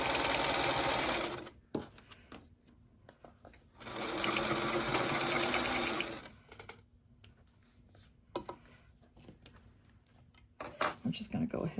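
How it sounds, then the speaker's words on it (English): A sewing machine stitches a quilt block in two steady whirring runs of about two seconds each, separated by quiet pauses with soft clicks and handling noises, then a few short bursts near the end. "I'm just going to go ahead and sew the other side on before I press."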